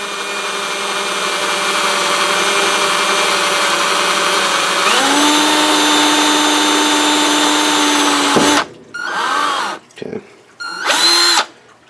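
A power tool runs continuously for about eight seconds, tapping screw threads into an LED heatsink, with its pitch rising partway through; it then stops and restarts in a few short bursts, loud and close, with no talk.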